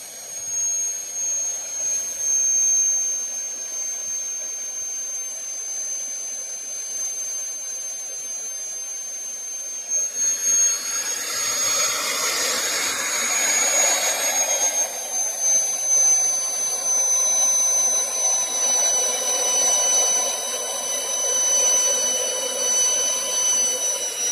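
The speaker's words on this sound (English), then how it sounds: "But I gotta get this plate drilled." A power drill bores holes in a metal plate for a truck crane mount. A steady high whine rises into a louder, rougher grinding stretch midway and then continues steadily. No one speaks.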